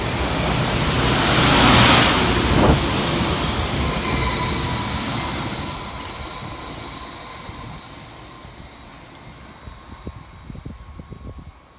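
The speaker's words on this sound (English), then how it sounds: "Next flying through the station for Transport for Wales is 231001, working 2 Romeo 26 from Barry Island through to Rhymney." A Transport for Wales Class 231 train runs through a station without stopping on the Barry Island to Rhymney line, a loud rushing roar that peaks early and slowly fades into rumbling wheel clatter and rail noise.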